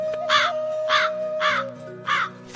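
Four loud, harsh crow caws spaced evenly about half a second apart, alone and close, over a steady faint electronic tone and low hum.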